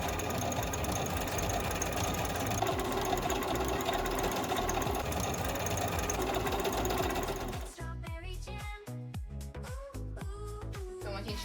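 A sewing machine stitches a buttonhole stitch on fabric letters for a strawberry-themed door pennant, first a fast continuous whir, then slower, distinct rhythmic stitch pulses near the end.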